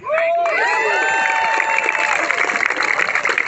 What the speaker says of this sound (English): please give another round of applause to Brother in Gaza and Brother Didon